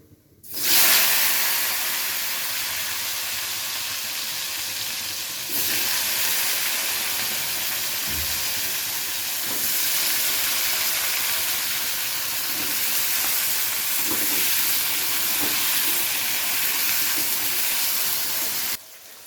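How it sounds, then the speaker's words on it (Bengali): Radish pieces fry in the hot oil left from frying sole fish, for Bengali sole mulo. A strong, continuous hissing sizzle flares up as they go in, then crackles on steadily with small pops. "এই তেলের মধ্যেই মূলোগুলোকে ভেজে নিতে হবে।"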